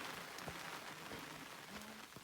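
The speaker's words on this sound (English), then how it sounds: "It's raining." Rain falling on a mountain hiking trail near the peak in the Blue Mountains of Jamaica, a steady close patter of drops with a few sharper individual hits.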